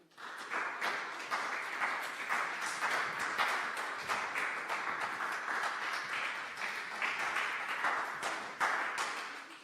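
A church congregation claps steadily and cheers in a sustained wave of applause, fairly distant and reverberant, with no clear single voice standing out.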